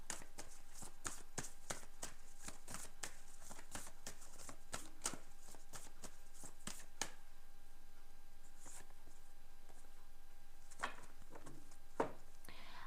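Tarot reading cards are shuffled in quick soft riffling flicks, then drawn and laid down with a few light taps, faint and close in a quiet room.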